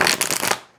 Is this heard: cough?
no